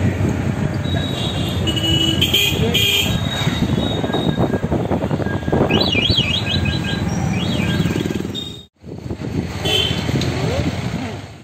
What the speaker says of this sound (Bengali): ট্রেন চলে আসছে বাবা